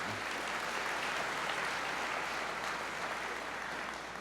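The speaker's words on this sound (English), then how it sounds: "Big round of applause." Audience applause for sponsors at a community event in Eskasoni, Nova Scotia: a steady, dense wash of clapping from a sizeable crowd, sustained evenly throughout and tapering slightly at the end.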